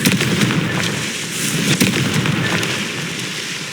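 A Confringo fire spell blasts in Hogwarts Legacy as a dense, continuous crackling roar with sharp popping bursts scattered throughout, loud and close with no voices over it.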